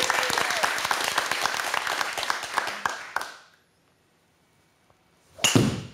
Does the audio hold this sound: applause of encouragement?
yes